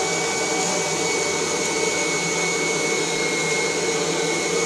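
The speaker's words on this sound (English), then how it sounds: "Motor's squealing a little bit." Kirby G4 80th Anniversary Edition vacuum cleaner running steadily after carpet shampooing, a loud continuous motor roar with a thin high-pitched squeal riding on top, no talking.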